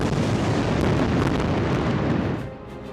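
Israeli bombardment of Gaza rumbles in a dense, continuous roar of explosions that holds loud and broad for over two seconds before dropping off abruptly, with no voices over it.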